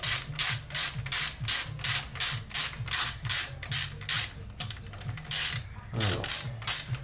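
Ratchet loosening a Barkbuster handguard bolt on a BMW F900 GSA motorcycle, a loud, close series of regular clicking strokes in an even rhythm, slowing near the end, with no speech.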